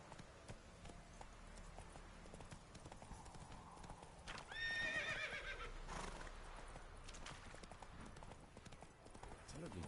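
A horse in The Witcher 3 trots with a steady clip-clop of hooves and gives a sharp whinny partway through, while quiet speech runs in the background.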